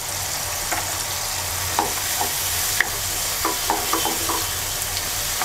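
Ground spice masala with turmeric, coriander powder and slit green chillies stir-frying in oil for a tomato boal fish curry, a steady close sizzle broken by scattered spatula scrapes and clicks against the pan, no voices.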